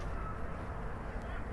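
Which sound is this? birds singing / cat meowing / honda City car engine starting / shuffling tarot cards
birds singing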